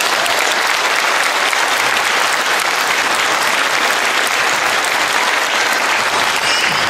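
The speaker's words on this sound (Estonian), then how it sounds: "Ja saadame ka temale tervitused aplausiga." Sustained, dense applause from the audience at a kindergarten spring celebration in Paide, loud and steady from start to finish with no voices above it.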